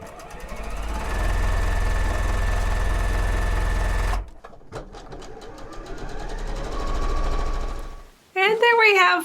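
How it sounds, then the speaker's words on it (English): A sewing machine stitches a quilt block in long steady runs, a fast even whirring hum that stops, briefly restarts, then gives way to a short burst of talk at the end. "I'm going to sew this"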